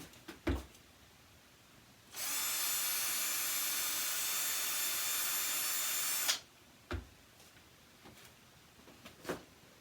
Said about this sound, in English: I'm going to ream it a little bit.